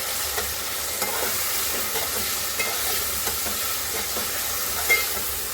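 Tomatoes in a pan for moong matki misal sizzle and fry with a steady, bright hiss. Faint stirring clicks sound now and then, and the hiss stays close and continuous.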